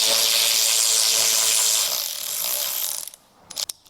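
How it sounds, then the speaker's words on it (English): A power ratchet whirs continuously while driving fasteners on the front wheel of a 2017 or newer Piaggio Liberty scooter, loud and close, then stops and is followed by a few clicks and handling noises. "use the power ratchet"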